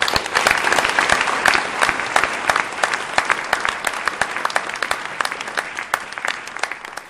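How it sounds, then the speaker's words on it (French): A congregation claps steadily at an evangelical church's 40th anniversary celebration in Sarre-Union, a dense, even round of applause that holds for several seconds and slowly tapers. "Je pense qu'on peut les applaudir."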